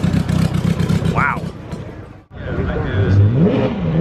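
A Ferrari Enzo rolls in at a car gathering, its engine revving loudly with a rising and falling pitch, briefly cutting out and then building again, while a person exclaims over it.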